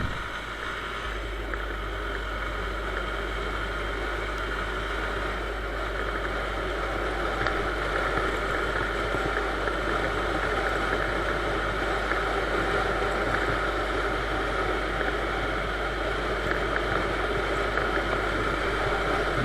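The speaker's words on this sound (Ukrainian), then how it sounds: "будемо брати розгін на даному китайському мотоциклі Viper 200" Chinese Viper 200 motorcycle accelerating hard on a straight road, a sustained engine drone mixed with heavy wind rush, steady and loud throughout with no talk.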